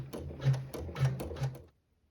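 A sewing machine stitches a seam through quilted fabric for a tablet sleeve, three short bursts of rapid mechanical whirring about half a second apart, close and moderately loud, then it stops.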